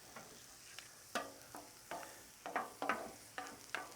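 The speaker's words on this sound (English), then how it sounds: "Move it to the sizzle side from the hot to the cold." Philly cheesesteak meat sizzles quietly on a hot griddle while a spatula scrapes and stirs it in a series of sharp bursts, each followed by a fading hiss.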